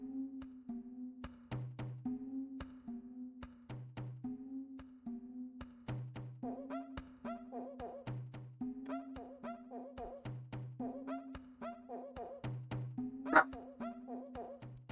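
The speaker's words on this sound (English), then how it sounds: "My dog is yapping." A small dog yaps and barks in quick repeated bursts, high sharp yips mixed with short lower barks in an irregular rhythm, close and fairly loud, with no talking.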